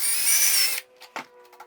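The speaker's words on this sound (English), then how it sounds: "Then I'm just gonna stick the 3/8 one on the dowel and drill my hole." A power drill with a 3/8 inch bit bores a hole through a wooden dowel, a loud steady whine for under a second before it stops, followed by a few quiet handling knocks.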